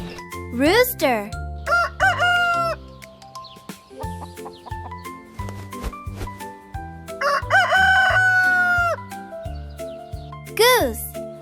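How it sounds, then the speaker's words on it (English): A rooster crows loudly and close in several separate bursts, set over a bouncy children's music backing with chimes between the calls. "Rooster."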